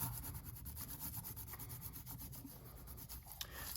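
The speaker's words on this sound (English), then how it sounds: "I'm just kind of rubbing here and there to get the paint up" A hand rubs paper over paint on a gel printing plate, giving a soft, continuous scratchy rubbing with quick repeated strokes, close and faint, no talk.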